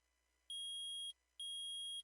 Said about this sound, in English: I permit the use of the metal detector.